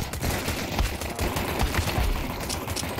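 Shotguns fire in Counter-Strike 2 during a chaotic firefight, with loud, dense, overlapping gunshots and heavy booms rolling continuously throughout.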